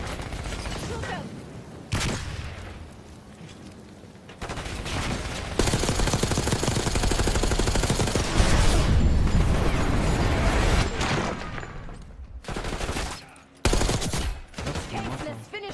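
Call of Duty Black Ops 6 firefight: repeated loud bursts of automatic gunfire and single shots, broken by short pauses and mechanical clatter, over a game soundtrack.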